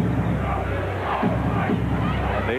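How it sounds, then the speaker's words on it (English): Arena crowd at Madison Square Garden during an NBA basketball game roars steadily, loud and close, swelling with a couple of sharper surges of cheering over the continuous din. "Oh, the crowd reacts."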